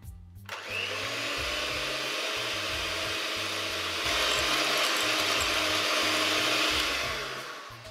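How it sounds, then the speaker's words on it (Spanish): An electric hand mixer whirs steadily while beating eggs into a margarine-and-sugar cream for homemade magdalenas, starting abruptly, running loud and even for several seconds, briefly rising in pitch, then winding down. "A continuación añadimos los huevos y los batimos."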